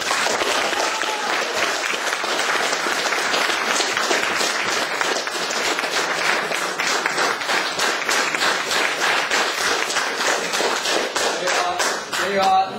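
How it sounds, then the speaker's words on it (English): An audience at an open discussion event claps steadily and densely throughout, a sustained round of applause with no speech over it. "You have a ready-made fan club here, I can hear from the claps"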